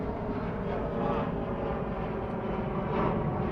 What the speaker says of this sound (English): there's a big plane over here